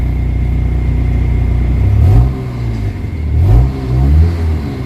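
A Kia Pride engine with white smoke, vibration and low power runs close by, rising into two revving surges and settling back to a rough idle, with no talk.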